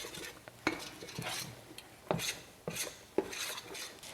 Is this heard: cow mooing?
no